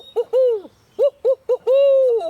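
A person imitates the barred owl's 'who cooks for you' hooting call, a series of voiced hoots: two short notes, a long drawn hoot, then quick notes ending in a long sliding hoot, close and clear.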